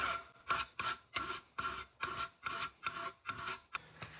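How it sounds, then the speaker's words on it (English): A hand file rasps across a broken aluminum part from a 1988 S15 pickup in steady back-and-forth strokes, about a dozen bright, gritty scrapes in an even rhythm, close up with no talking. "I'm gonna file it flat so I've got a better surface to start on"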